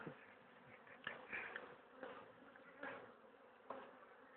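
A dense, continuous buzz of many honey bees in a hive fills the clip, with individual insects swelling louder as they pass close by.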